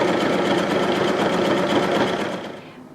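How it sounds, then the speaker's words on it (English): A sewing machine runs a zigzag stitch along a denim jeans hem, a close, steady rapid whirring and clatter that slows and stops near the end, with no voices. "starting just a little below the straight stitch that you did, I'll do a zigzag stitch"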